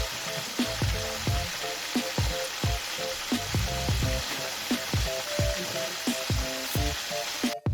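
Loud, continuous oil sizzling and crackling as crab fries, with frequent clacks and scrapes of stirring throughout, no talking.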